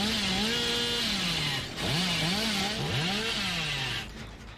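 A chainsaw revs in the Dead by Daylight video game, a sustained buzzing engine whine that rises and dips in pitch over a dense, loud mix of game sound before easing off at the end.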